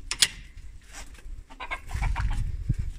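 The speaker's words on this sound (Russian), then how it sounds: "И куры бегут гурьбой." A flock of farmyard chickens running together and clucking, with scattered close clucks, scuffling steps and low rustling over a busy barnyard background.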